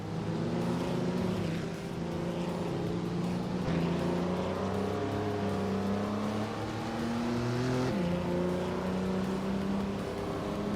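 Vintage race cars, led by a 1959 BMW 507, launching at the start of a video game race at the Tsukuba short track, with engines droning and revving together in a loud, continuous layered roar.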